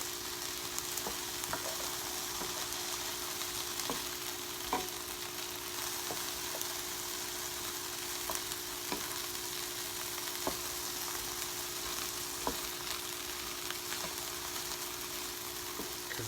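Onions and vegetables sauté in a pan for a shrimp dish with cilantro, ginger and lime: a constant, even sizzle with scattered light clicks from stirring, moderately close and without any talking.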